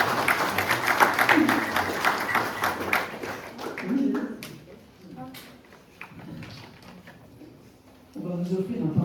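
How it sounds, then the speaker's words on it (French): A congregation at a Sunday Protestant service applauds. The clapping is scattered and moderate at first, fades into quieter taps and murmuring, and talk resumes at the end. "On peut les applaudir"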